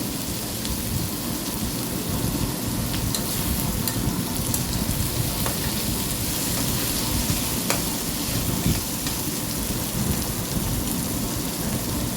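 Food sizzling loudly in a pan just after more oil is poured in, a dense, continuous crackling hiss that stays steady and close throughout.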